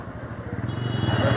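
A motorcycle engine idles with a steady, pulsing low rumble close by on a street near the Janaki Mandir temple, with no clear talk over it.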